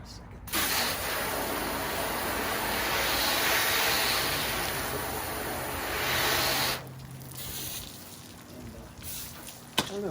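A hose sprays water onto a car hood, a steady hissing rush for several seconds that then drops to faint dripping and a quieter spray near the end.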